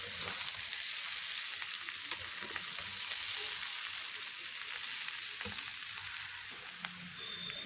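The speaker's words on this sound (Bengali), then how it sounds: "কাঁঠাল আর মটরটা ভাজা ভাজা করে নেব" Jackfruit and peas fry in a pan with a steady, close hiss of sizzling oil, punctuated by occasional light scrapes and clicks of stirring, continuous throughout with no voices.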